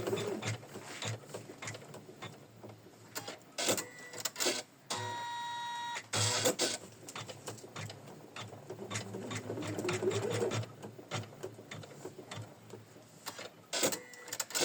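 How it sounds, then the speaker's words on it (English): A sewing machine stitches placement lines on fabric for an autumn-leaf craft project, whirring in close, rapid runs with short stops and restarts between seams. "next we are stitching 2 more placement lines for the 4th leaf"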